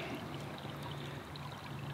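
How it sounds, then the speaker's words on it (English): Heavy water flow pouring out of a drainage exit point as runoff leaves a property, a steady broadband rush with constant level and no pauses. "look at how fast that's going. There's a lot of water leaving the property"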